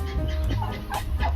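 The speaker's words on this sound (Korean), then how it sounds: "그냥 귀여운 개다" A dog on a street in Türkiye gives soft whimpering yips, close and brief, over a constant low outdoor hum with faint voices.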